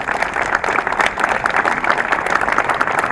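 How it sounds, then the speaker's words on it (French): Audience at a memorial ceremony for Second World War victims gives steady, close, fairly loud applause, an even wash of many hands clapping with no speech. "On peut les applaudir"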